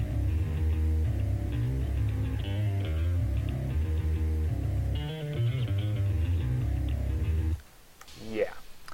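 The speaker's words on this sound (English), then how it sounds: "And this is the bass tone." A heavy metal bass guitar tone chugs through a dense low riff with shifting notes for several seconds, then cuts off abruptly, leaving a short faint noise at the end.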